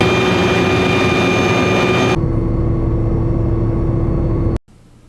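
Turbine whine of an MD500C helicopter in the game Flight Simulator 2024, a steady loud high-pitched drone that abruptly drops to a lower whirring tone partway through, then cuts off sharply near the end, leaving faint residual hum.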